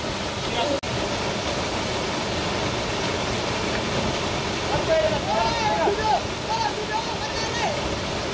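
The Okhreni waterfall at Sundarijal roars in a constant broad rush from nearby, with a person talking over it and brief birdlike chirps partway through.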